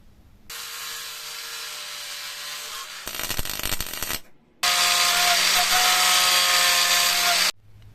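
A power tool grinds a grease nipple fitting from a 1950 Panhard Dyna X 86 in two loud, sustained whining bursts close by, separated by a shorter rattling stretch and brief pauses, with no talk.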